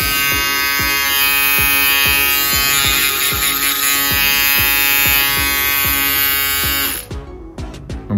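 A Prodigy Wireless Gamma+ Style Craft electric shaver runs with a steady, close, even buzz for about seven seconds, then switches off, leaving a few faint clicks and small mechanical noises.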